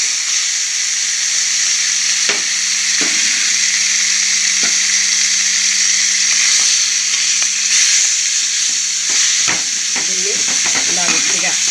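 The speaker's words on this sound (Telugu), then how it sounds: "ఇప్పుడు ఇందులో వేసేసుకుందామండి బాగా ఫ్రై చేసుకుందాం" Mutton keema frying in oil, a loud, continuous hiss of sizzling with a steady background hum, as a spatula stirs and scrapes the pan in irregular knocks that grow busier toward the end.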